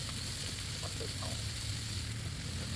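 Meat sizzles steadily in a skillet over a wood fire, a constant close crackling hiss with faint stirring scrapes and no talk.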